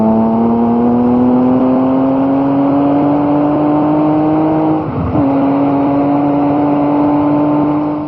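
A Lamborghini Countach's 12-cylinder engine holds a loud, steady, smooth tone, rising slowly in pitch with a short dip and catch near the end, no voices.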